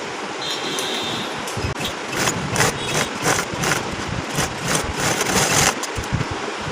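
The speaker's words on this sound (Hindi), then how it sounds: "अब ये जो कपड़ा है इसके ऊपर हमने सिलाई करनी है, इस कपड़े को इस तरह करके।" Nearby, a sewing machine stitches fabric for a garment neck design, a continuous mechanical whir broken into short uneven bursts under a steady background hum.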